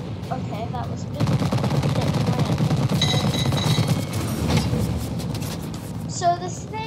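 Rapid bursts of 20mm cannon fire from a German aircraft in the Roblox combat flight game Wings of Glory, a dense rattling stream lasting several seconds over a steady engine drone, with a short quiet gap at the start.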